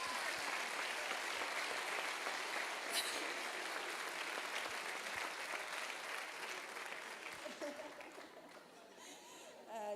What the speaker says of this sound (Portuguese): aplauso a Jesus, queridos